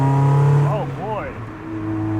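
A Mazda Miata engine drones loudly from inside the car, then its pitch rises and dips in quick swoops as the throttle is floored, followed by a steadier hum.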